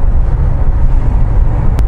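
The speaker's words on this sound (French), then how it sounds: "Nous voici donc à l'essai dans cette Porsche 911 SC de 1981. Moteur 3 litres. On entend bien." A 1981 Porsche 911 SC with a 3-litre air-cooled engine drones in a low, steady rumble, heard from inside the car and partly buried in loud wind and road noise.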